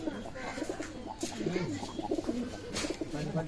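High-flying Pakistani pigeons, a running pair kept together, coo in soft, throaty repeated calls close by, with faint background noise and a little indistinct voice.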